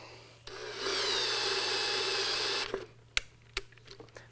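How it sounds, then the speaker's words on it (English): A drill bores a hole in wood for a threaded insert, a steady grinding whir for about two seconds, then stopping, followed by a few sharp knocks and clicks. "So now I'm going to drill this hole to the proper depth for the insert."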